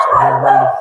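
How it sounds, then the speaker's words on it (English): A single loud, close dog bark, a short strained yelp-like call lasting under a second with no other sounds around it. "The dogs are going nuts"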